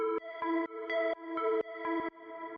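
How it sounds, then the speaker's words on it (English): A soft synth arpeggio layer used as ear candy in an Anjunadeep-style track, six evenly spaced bright tonal notes repeating in a steady pulse, quiet and isolated. "the next thing we have here is this little ARP"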